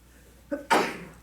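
A single short sneeze, preceded by a brief intake of breath, close by in a quiet room during a village board meeting.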